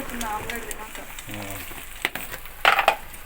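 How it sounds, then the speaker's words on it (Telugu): An omelette frying in oil in a home kitchen pan gives a soft, steady sizzle, with a few brief clatters and scrapes near the end and faint background sounds. "ఇంటికి వచ్చిన తర్వాత మా హస్బెండ్ అయితే నా కోసం ఇక్కడ ఆమ్లెట్ వేసేస్తున్నాడు"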